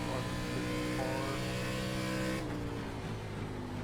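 ARCA Menards Series race car engine in iRacing, a steady loud drone of high revs with a tonal shift partway through, sounding like the car backing off or shifting, with no talk.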